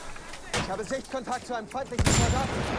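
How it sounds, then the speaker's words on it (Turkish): Suppressive gunfire in the World War I shooter game Battlefield 1, in a tank battle in the Argonne Forest: a string of sharp repeated shots with a heavier blast near the end, under someone talking. "Baskı ateşi yedim dur."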